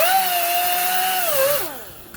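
A grinding wheel cuts at a bearing on a motocross dirt bike steering stem, holding a steady, loud whine with buzzing overtones before pitching down and trailing off as the tool stops.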